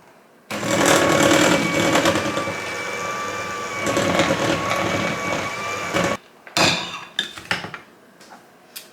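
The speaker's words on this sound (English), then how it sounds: "I'm going to start the mixer on low and then gradually increase as the powdered sugar gets a chance to incorporate into the cream cheese." An electric hand mixer on low speed beats cream cheese and powdered sugar for an Oreo dessert dip, giving a loud, steady motor whine for about six seconds before it stops and a few clattering knocks follow.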